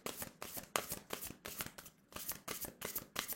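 Oracle cards, very large ones, being shuffled and drawn by hand: rapid riffling bursts of papery flutter repeat in close, fairly loud waves with brief pauses between them, with no talking.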